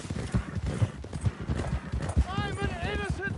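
Horse hooves clip-clopping at a quick, even gait in the Red Dead Redemption 2 video game, with a brief whinny and voices speaking and shouting over the hoofbeats.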